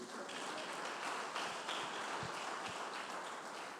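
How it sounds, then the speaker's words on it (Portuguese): Church congregation applauding after a sermon point, a steady wash of clapping across the whole stretch at moderate distance, fairly even in level with no clear speech on top. "As palmas para Ele."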